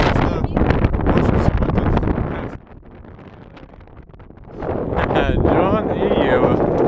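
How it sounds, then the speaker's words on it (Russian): Strong gusts of wind buffet the microphone outdoors in the USA ahead of a severe thunderstorm, a loud roaring rumble that eases for a couple of seconds mid-clip before surging back, with talk faintly underneath. "Неожиданно такой вот сильный ветер здесь"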